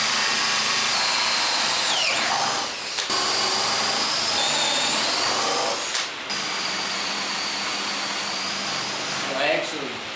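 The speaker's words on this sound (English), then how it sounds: "I'm just going to start drilling holes." Power drill boring holes in wood blanks for Halloween candle holders, a steady loud whine running nearly throughout with short pauses and pitch dips as the bit bites, workshop noise underneath.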